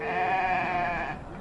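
A goat at a livestock market in Massawa, Eritrea lets out one long, wavering bleat, loud and close, that fades out near the end.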